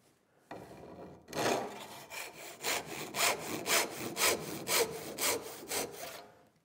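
Hand saw cutting through a straight-grained pine board held in a vise, shaping a French cleat; steady rhythmic rasping push-pull strokes, close and fairly loud, about ten strokes with no talking.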